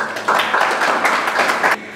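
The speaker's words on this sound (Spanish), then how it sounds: "Recibamos con fuertes aplausos al doctor Rudecino Bonao." Audience at an academic presentation applauding to welcome a doctor to the podium, a short burst of moderately dense clapping that starts abruptly, holds evenly, then cuts off.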